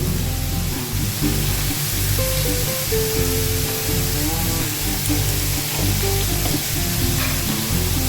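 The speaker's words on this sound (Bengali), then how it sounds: "দিয়ে এবার ভাজবো একটু।" Vegetables frying in oil with turmeric in a pan for a Bengali tarkari with grated coconut, giving a steady, close sizzle throughout with occasional stirring scrapes and no talk.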